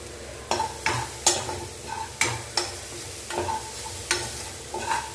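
A spoon scrapes and stirs through tomatoes sizzling in a hot pan, rhythmic strokes about every half second over a steady frying hiss.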